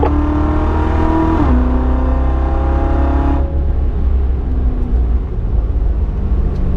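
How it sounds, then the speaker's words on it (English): A motorcycle accelerates hard around a race track up to fifth gear, engine revving loud and close with rising pitch that drops at each upshift, about three shifts in a row. "Keep accelerating. You got it. You're doing good up to fifth gear."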